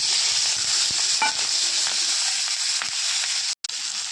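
Lentil dumplings, cumin, dried red chilli, chopped tomato and green chilli fry in hot oil for a small fish curry, giving a loud, continuous sizzle with occasional stirring crackles and a brief cut near the end.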